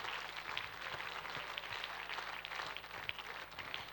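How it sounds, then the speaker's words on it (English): An audience at a school Grandparents Day event applauds the grandparents with steady, dense clapping that carries on evenly without a break, heard from a distance at low volume. "We need a very, very big Vidya Valley clap for them."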